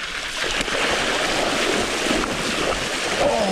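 Mountain bike pedaled through a stretch of cold water on a Colorado trail loop, a steady loud rush of splashing and churning under heavy wind noise on the microphone, with no speech.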